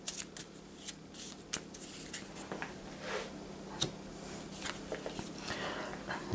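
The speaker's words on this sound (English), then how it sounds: "Shuffle it up again." A deck of game cards for a Sentinels of the Multiverse tabletop session is shuffled quietly, with soft, rapid riffling and crisp slaps repeating for several seconds with no talking.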